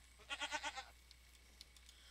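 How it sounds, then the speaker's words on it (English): A Minecraft goat bleats in a quick run of five wavering pulses, faint and alone over quiet game ambience, followed by a few soft ticks. "Do I want to try to kill the goat, more to the point?"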